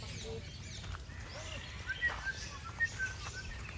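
Small birds chirp near an aviary along a walking path on a resort island, a few short faint tweets scattered over steady low outdoor rumble.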